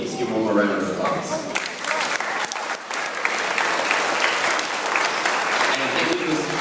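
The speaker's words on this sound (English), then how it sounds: "Let's give one more round of applause." Sustained applause from a school audience honoring a first-grade class, steady clapping filling the whole stretch with a voice faintly over it at the start.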